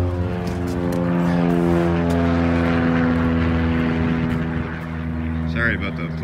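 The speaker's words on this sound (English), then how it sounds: "Sorry about the plane." A propeller airplane passes low near an airport, a loud sustained droning engine tone with strong steady harmonics dominating for several seconds before easing slightly.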